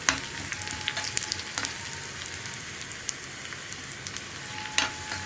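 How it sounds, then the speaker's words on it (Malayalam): Onions frying in a pan for a Kerala-style carrot parippu (lentil) curry, giving a steady close crackling sizzle with scattered sharper pops as they are stirred, no voices. "ഉള്ളിയുടെ കളർ മാറി വരുന്നത് വരെ നമുക്കൊന്ന് ഇളക്കി കൊടുക്കാം."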